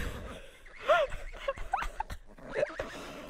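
A cartoonish dog-like creature in a puzzle video game gives a few short yips and whimpering squeaks, small pitched barks scattered over quiet background game sounds.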